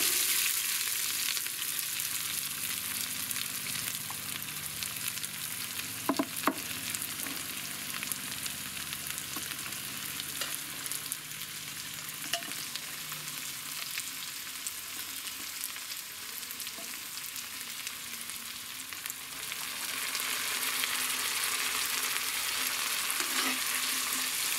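Small onions fry for a village-style mutton curry, with a constant sizzle, occasional sharp clinks of stirring, and the frying growing louder toward the end.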